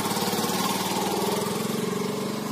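A motorbike engine runs steadily at close range, a loud, even mechanical drone with a fast regular pulse and no break throughout.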